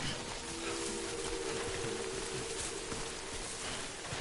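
Steady rain in the video game Death Stranding, a dense even hiss of falling drops with no breaks, under a faint low tonal hum and no talking.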